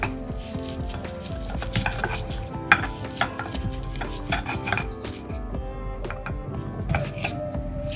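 Garlic and shallots are ground with salt in a mortar, with repeated uneven pounding and scraping strokes, close and fairly loud, continuing steadily without speech.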